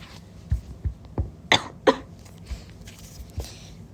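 A few short, sharp coughs spaced over a few seconds, two louder ones in the middle, close to the mic with quiet room noise between.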